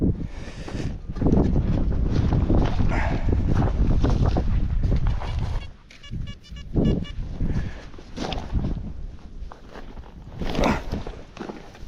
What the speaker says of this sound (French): il y a peut-être un peu de vent, parce que là le vent il s'est bien levé